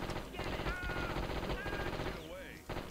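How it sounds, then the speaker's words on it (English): Rapid rhythmic machine gun fire in the Die Hard Trilogy video game, a steady stream of quick shots mixed with game music, fairly faint overall. "I got a machine gun!"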